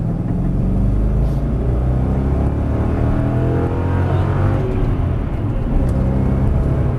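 A race car accelerates hard on a straight, its engine a continuous loud, close rumble with a gradual rise in pitch and no pauses.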